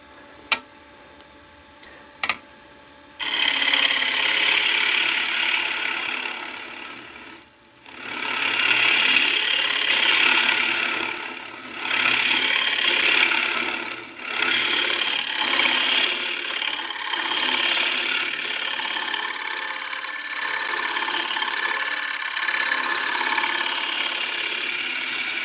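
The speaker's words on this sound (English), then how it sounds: "We're going to switch over to the mid-size hollower, which uses these little bitty carbides." Wood lathe spinning a cracked log while an Easy Wood mid-size carbide hollower cuts inside it, a loud, steady broadband roar that runs almost continuously after a quiet start, dipping briefly a few times.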